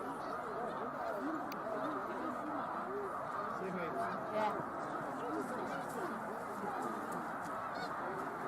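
A large gathering of geese and swans flying over a lake in central Pennsylvania in late February, a dense chorus of overlapping honks from many birds at middle distance, continuous and busy.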